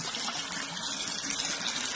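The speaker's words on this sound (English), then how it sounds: "just rinse them in cold water, drain them" Cooked noodles rinsed under cold running water for a pantry salad supper, a steady close gushing tap stream that runs unbroken throughout, with no talking.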